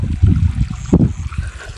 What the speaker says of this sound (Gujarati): તમે જોઈ શકો છો પાણી ચાલુ છે અત્યારે.